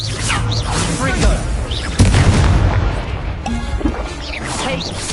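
Confringo spell blasts in Hogwarts Legacy on PS5, loud booming explosions with crashing impacts and whooshes, a sharp hit around the middle amid dense game effects and voice chatter.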